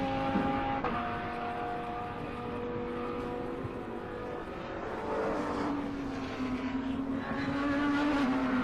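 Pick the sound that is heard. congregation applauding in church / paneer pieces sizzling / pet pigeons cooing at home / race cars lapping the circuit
race cars lapping the circuit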